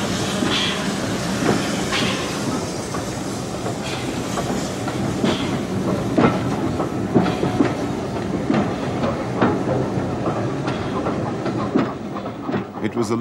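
A small 0-6-0 steam tank locomotive of the Southern Railway type runs on a preserved line, giving a steady rolling rumble with rhythmic clickety-clack from the wheels over rail joints, continuous and fairly loud throughout.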